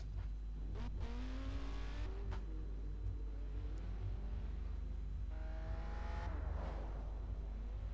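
In the video game Forza Horizon 3, a Ferrari F355 engine revs and accelerates with rising and falling whines through several gear changes, quiet overall and heard alone.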